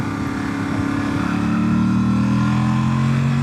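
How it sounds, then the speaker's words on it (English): A 2025 Yamaha Tenere 700 with stock exhaust and airbox and a flashed ECU pulls as the throttle opens on an overcast road ride, its engine drone rising steadily and loud beneath wind noise. "as I roll the throttle on"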